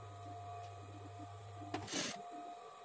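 A sewing machine stitches the lining of a katori blouse with a low, steady motor hum, broken near the end by a short, louder mechanical burst, close by with no talk.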